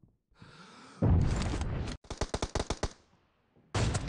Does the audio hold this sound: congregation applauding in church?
no